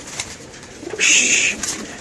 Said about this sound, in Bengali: এই যে কবুতর নামলো